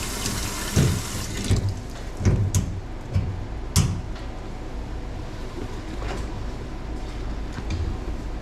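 Tap water runs and splashes as kimchi cabbage is rinsed in a sink, a steady wash of water with a few clunks and handling knocks early on, no speech.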